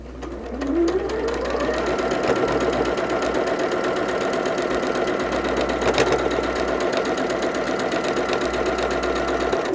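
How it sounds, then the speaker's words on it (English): A sewing machine ramps up and then runs continuously, stitching quilt block pieces for a barn star sampler with a loud, close, rapid mechanical chatter. "This one needs to be sewn."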